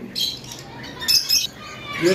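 Lovebirds kept in pairs at a bird seller's, giving a few sharp, high squawking calls close by, with bursts around the middle and a louder call at the end over faint background noise.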